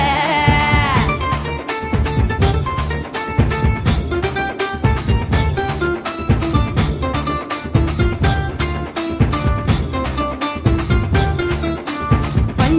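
A goat bleats with a wavering, drawn-out cry near the start, followed by a loud, steady rhythmic beat of music that carries on for over ten seconds.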